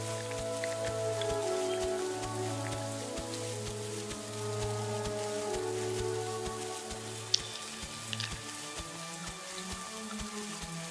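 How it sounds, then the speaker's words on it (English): Rain falling in the dinosaur survival video game The Isle, a steady, close patter of drops on surfaces with a low tonal drone humming beneath it throughout. "Will it ever stop raining?"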